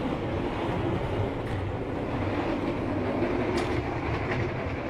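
Steady rumbling interior noise of the Argo Lawu passenger train moving at speed between Solo and Jakarta, a continuous low roar with faint rattling, no voices.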